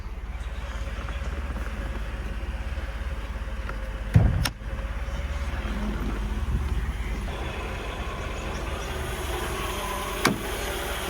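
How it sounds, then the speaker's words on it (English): Power sunroof on a 1989 Mercedes-Benz 300E, a steady low motor whir inside the car with a sharp clunk partway through and a lighter click near the end, no voices. "Power sunroof, nice and smooth,"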